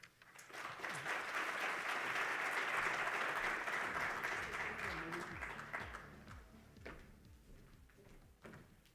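Conference audience applauding at a national green hydrogen event in Namibia, clapping that swells to a broad, sustained peak and then thins out into scattered claps near the end.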